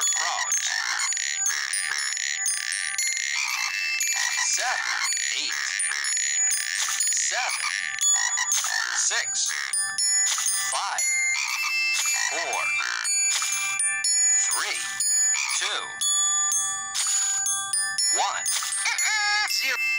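Cartoon frogs in the PBS Kids Curious George counting game croak in quick repeated bursts, joined by bright chime-like tones in a busy, steady stream.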